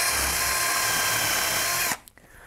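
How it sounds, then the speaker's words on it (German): A power drill with an 8 mm bit whirs steadily at high speed for about two seconds, then stops abruptly, leaving a quiet room with a faint click. "nehme ich wieder den altbekannten 8 mm Bohrer"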